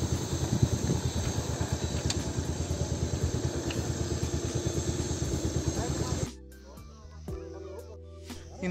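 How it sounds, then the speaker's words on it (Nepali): A motorcycle engine idles steadily with a dense, pulsing low rumble for about six seconds, then cuts out, leaving quiet background with a few faint knocks, on a hill trip near Kathmandu. "Here is my bike."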